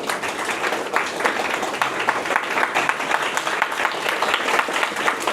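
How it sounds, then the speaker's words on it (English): An audience at a college department event claps together in a sustained, evenly textured round, moderately loud and close, with faint voices underneath. "let's clap for all of us"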